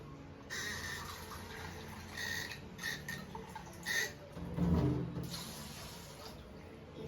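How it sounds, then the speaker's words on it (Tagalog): Water is poured into rice in a cooking pot, a soft splashing and trickling in short bursts at a quiet, close level. "lagyan ng tubig na naaayon sa dami ng bigas"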